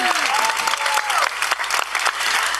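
At the 2024 WFF Youth Food Lab finals, an audience claps vigorously and continuously for the team Ecoliving, with a cheering voice sweeping over the dense applause at the start.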